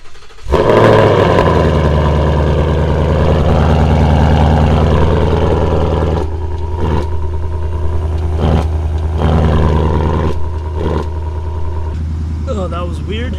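A Mustang GT with a Steeda X-pipe and valved axle-back exhaust fires up loudly and settles into a deep, rumbling idle with a few blips of revving, close and dominant, with voices talking over it.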